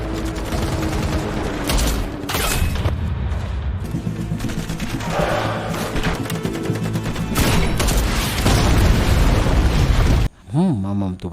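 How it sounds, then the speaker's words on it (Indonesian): Heavy battle sound from a war film with a bazooka explosion, dense booms and gunfire merged with music into a loud, continuous roar, ending in a brief quieter tail. "Karena terkena ledakan basoka"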